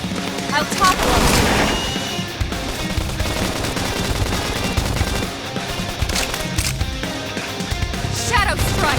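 Rapid gunfire bursts crackle through a hectic Xenoblade Chronicles X: Definitive Edition battle, packed tightly with booming impacts, a steady music bed and in-game voices shouting throughout.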